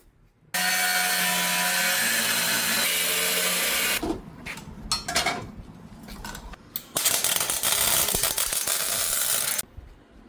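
A power cutting tool slices a nub off a Geo Tracker frame, giving a loud, close, sustained grinding whine that breaks into choppy bursts midway before a final steady run and sudden stop.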